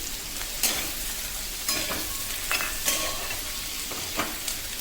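Broccoli and other vegetables fry in butter in a pan for wheat-flour white sauce pasta, giving a steady close sizzle broken by occasional stirring scrapes and knocks.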